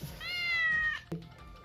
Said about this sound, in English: My cat wanted to join us.